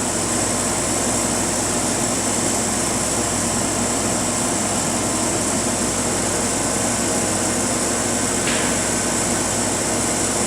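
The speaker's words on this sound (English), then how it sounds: "Right now, the chamber is pumping down to the base pressure level, 5 into 10 to the minus 5 torr," An Oxford Plasmalab 80 RIE etching chamber's vacuum pumps run while pumping down to base pressure, a loud, steady broadband whir and hum that stays constant throughout.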